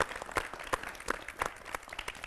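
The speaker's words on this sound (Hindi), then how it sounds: "आइए तालियां बजाकर स्वागत करें" Audience at a Hindi poetry gathering (kavi sammelan) in Haryana applauds to welcome a poet to the stage, a soft, moderately distant patter of many hands with a few louder individual claps standing out.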